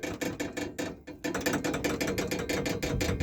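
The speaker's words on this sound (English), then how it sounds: "That was just the window rattling on it." A car window rattles hard against its frame from the lopey idle of a big block Chevy with an aggressive cam, a loud, dense, fast mechanical buzzing chatter that pulses steadily and briefly drops out once.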